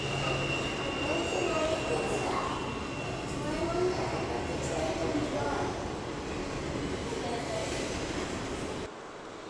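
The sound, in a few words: Amtrak train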